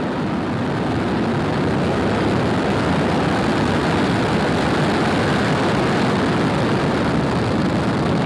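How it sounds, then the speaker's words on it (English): Falcon rocket engines igniting and lifting off at Cape Canaveral, a continuous broad, heavy roar that holds steady at full loudness for the whole stretch, with no voices over it. "Ignition and liftoff."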